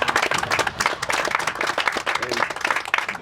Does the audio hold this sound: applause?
yes